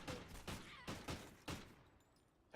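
Gunfire in a Search and Destroy match of Call of Duty Ghosts: about five sharp, loud shots in a ragged burst over the first second and a half, then the action falls quiet.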